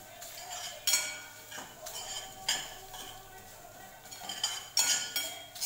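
A green chilli, coriander, mint and curry leaf paste sautéed in a pan: a spoon scrapes and clinks against the metal again and again at an uneven pace, over a soft, steady sizzle.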